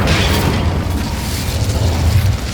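A fiery Incendio spell blast in the Hogwarts Legacy video game erupts as a loud, rumbling burst that rolls on for a couple of seconds, heavy low-end whoosh and crackle with no voice.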